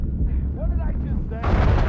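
A muffled blast goes off in the Uncharted 4 video game level, rolling in as a heavy rumble near the end after a short stretch of low background noise, with a voice speaking briefly.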